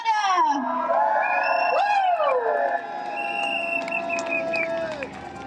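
Outdoor crowd at an Extinction Rebellion climate protest cheers again, loud and sustained, with children's shouts and whoops mixed into the roar before it eases slightly in the second half.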